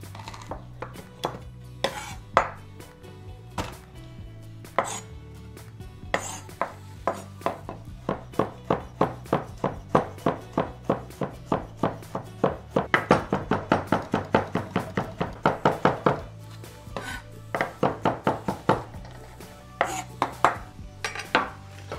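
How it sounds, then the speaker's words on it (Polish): Knife chopping three garlic cloves on a cutting board, a steady series of sharp close taps that speeds into quick regular bursts with brief pauses between runs. "Posiekam 3 ząbki czosnku."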